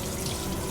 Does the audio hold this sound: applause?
no